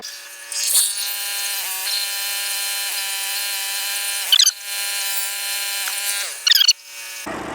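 A sawmill mills a big black oak log, its blade and motor holding a steady droning whine with strong harmonic tones and brief louder surges as the cut bites, then a sudden low drop at the end.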